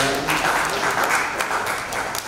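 An audience at a university MoU signing ceremony gives a round of applause, dense clapping that swells after a brief lead-in and stays steady, with a faint voice underneath at the start.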